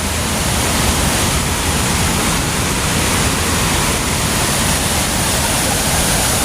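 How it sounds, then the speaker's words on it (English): A waterfall at Ricketts Glen State Park: a loud, constant roar of falling water, dense and unbroken from start to finish, close by. "there's the waterfall"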